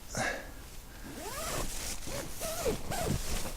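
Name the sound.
zipper of a Quechua Quick Hiker 2 tent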